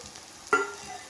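Spice powders fry in a pan with sautéed onion, tomato and garlic, giving a soft sizzle and one brief scrape of stirring partway through.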